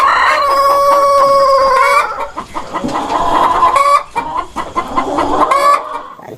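A chicken clucks and a rooster crows up close, loud repeated calls with harmonic crowing bursts in the first two seconds, then choppy clucks and another crow, with no talk.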